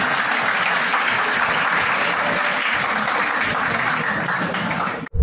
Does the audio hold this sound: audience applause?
yes